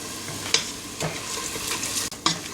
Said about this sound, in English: I'm just going to saute all that.